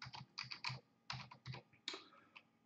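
Keys tapped on a computer keyboard while typing a name into a program prompt, an irregular run of about a dozen close, light clicks in small bursts with short pauses.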